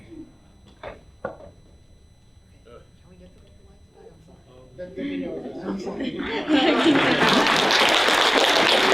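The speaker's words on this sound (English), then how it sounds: "Thanks for clapping" Audience applause at an anime car talk during a convention panel. Speech and scattered knocks come first, then clapping rises in the middle and swells into loud, dense applause for the last few seconds.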